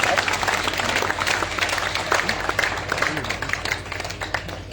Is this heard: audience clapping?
yes